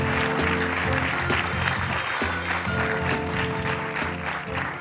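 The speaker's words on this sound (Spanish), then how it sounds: "Un aplauso para Eva." Studio audience applause on a Spanish talk show, sustained clapping mixed with music underneath, loud and continuous throughout.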